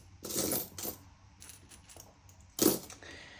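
Coins dropping and clinking together as a pile of change is handled, a few sharp metallic jingles with a quieter scatter of small clicks between them.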